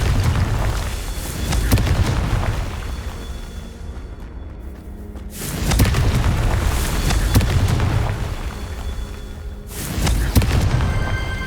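Confringo, an explosive spell in the game Hogwarts Legacy, sets off three loud booming blasts spaced a few seconds apart, each a deep roaring burst that trails into rumbling decay.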